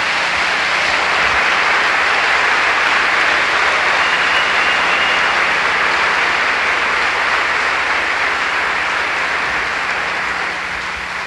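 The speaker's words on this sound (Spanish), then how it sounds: "Le damos un aplauso al Señor, eso lo merece" Sustained applause from a church congregation during a Spanish-language sermon, a dense, steady wash of clapping that stays loud and even for about eleven seconds before easing slightly at the end.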